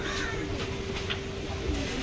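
Domestic pigeons kept in pairs for sale give soft, low cooing over steady background hum, fairly faint and continuous, with no one speaking.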